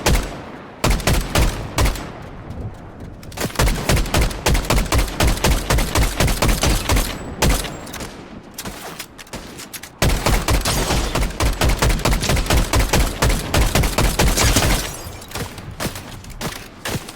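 Sustained automatic gunfire from a gun in the Fortnite video game, loud and close, rattling in long continuous strings with only brief breaks throughout.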